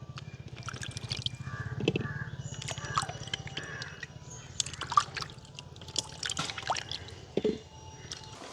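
Freshly picked ambarella fruit washed in water: intermittent drips, splashes and squishy handling sounds, close and fairly quiet, with small knocks between.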